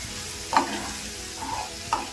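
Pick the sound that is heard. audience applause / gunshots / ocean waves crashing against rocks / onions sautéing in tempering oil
onions sautéing in tempering oil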